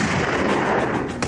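A gunshot in a German-dubbed TV drama standoff, heard as a single sustained loud blast that fills the clip with dense low rumble and a sharp transient near the end, with no speech.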